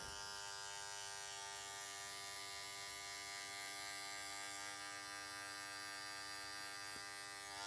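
Electric hair clipper running with no guard while cutting hair, a steady close buzz that holds evenly through the whole stretch with no talk over it.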